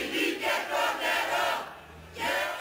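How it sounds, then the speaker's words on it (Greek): A crowd breaks into applause and chants slogans in loud, rhythmic bursts after its acquittal by a Greek three-member appeals court for felonies in the Skouries case, the roar surging and dipping several times. "ξεσπούν σε χειροκροτήματα και φωνάζουν συνθήματα λίγα λεπτά μετά την αθώωσή τους από το τριμελές εφετείο"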